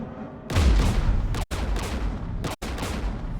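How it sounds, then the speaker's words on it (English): Heavy gunfire in a war video game, a loud sustained burst of rapid firing and rumbling booms from anti-aircraft guns, cut by two brief silences before resuming. "We're taking fire."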